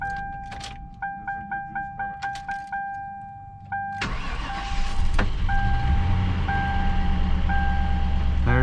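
A Ford vehicle's engine cranks and fires up after running on bad gas, a starter whir giving way to a loud, steady idle with a rough rumble, preceded by rhythmic chimes and clicks.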